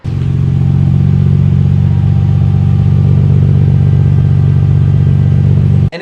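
A Nissan 300ZX with a swapped RB26 engine and custom dual exhaust idles close by, a loud, deep, steady burble with a fast, even pulse that holds for about six seconds before cutting off abruptly.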